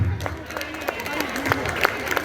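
Junior high school students at an extracurricular demo in Jakarta give a short burst of scattered applause, with crowd noise and talk mixed in.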